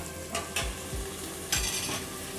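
Tomatoes and vegetables frying in a pan for mung dal khichdi, with a steady close sizzle and a few soft stirring scrapes spaced through the moment, no talking.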